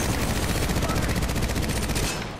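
Rapid rifle gunfire from a 30-30 in a shooter video game, a dense run of closely spaced loud shots for about two seconds, then breaking off.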